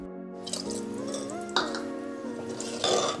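Water being poured slowly into a pan for a makhana and potato curry, a close, continuous trickling pour with small splashes and a faint tonal ring from the vessel.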